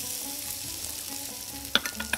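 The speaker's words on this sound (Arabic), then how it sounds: "ننزل عليهم بالبصل" Onion fries in hot oil with a dense, even sizzle close by, and a couple of quick utensil taps and scrapes come near the end. No voices.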